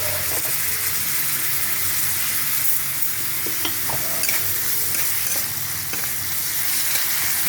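Spice paste with coriander powder, salt and a little sugar sizzling in hot oil in a pan, frying steadily and loud throughout while a spoon scrapes and stirs with occasional clicks.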